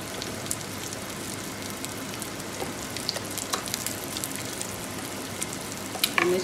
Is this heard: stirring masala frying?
yes